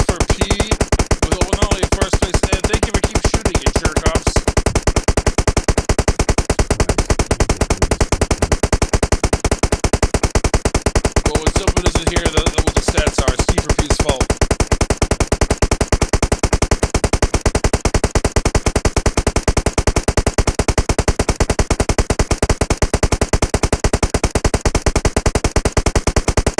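Gunfire in a multiplayer video game scrim match, a loud, relentless stream of rapid automatic shots hammering without pause for the whole stretch, with no talking.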